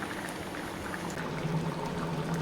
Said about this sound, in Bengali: আমি আট মগ পানি দিচ্ছি